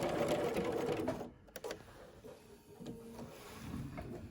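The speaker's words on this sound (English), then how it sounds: "starting just above the mask, forward and reverse, stitching right over the previous line, forward and reverse" A sewing machine stitches forward and then reverse over a previous line while sewing bias tape. It whirs steadily and loudly up close, with a brief stop and a few clicks midway before the stitching resumes.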